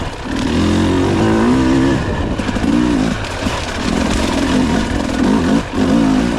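A KTM 300 TBI two-stroke dirt bike ridden on a wet trail, its engine loud and close, droning steadily with rising and falling revs as the throttle is worked.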